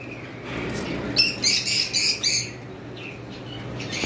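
A pair of pet birds on a bird farm give a short run of bright chirping calls, several close together in the middle, fairly near over a faint low hum.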